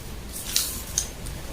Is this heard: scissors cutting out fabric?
yes